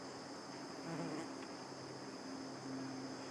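Faint, steady buzzing of bees around, with a low droning hum rising and falling over quiet outdoor ambience.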